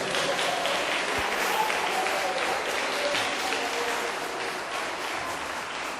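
Sustained congregational applause in a church, a dense, steady wash of many hands clapping at an even level for several seconds after a preacher's call to praise Jesus.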